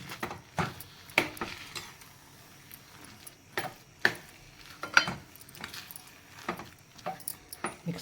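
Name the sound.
stirring rava kesari in a pan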